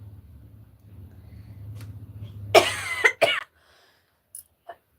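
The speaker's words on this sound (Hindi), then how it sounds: "खांसी तो परेशान कर देती है," A person coughs during a live folk-song stream: two or three harsh, close coughs come in quick succession after a low background hum, followed by a couple of faint short sounds.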